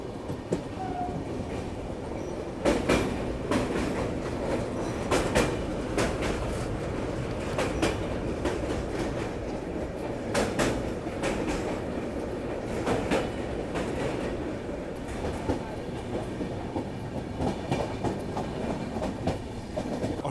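Duronto Express train running on rails in India, a steady loud rumble of wheels and carriage with faint rhythmic clickety-clack over joints throughout, heard from inside the train.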